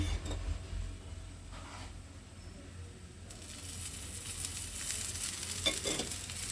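Food sizzles in coconut oil in a pan, a steady, soft frying hiss that grows brighter and louder partway through, with no voices.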